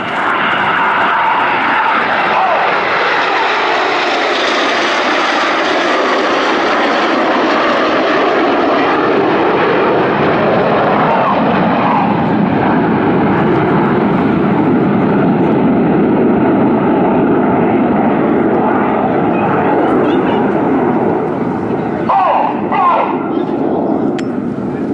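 Red Arrows jets flying in formation at the 2014 Farnborough Air Show give a loud, sustained roar that slowly swells and shifts in pitch as they pass, with a commentator's voice faintly present.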